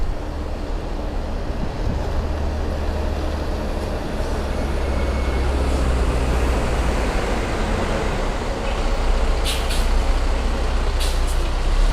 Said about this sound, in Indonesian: ini dia bus yang akan saya naiki menuju ke Denpasar